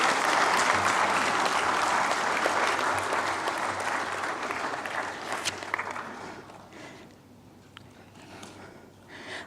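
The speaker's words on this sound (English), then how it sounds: "Please give a big round of applause." Loud applause from a large crowd at an international arbitration event, dense steady clapping that gradually thins and fades toward the end.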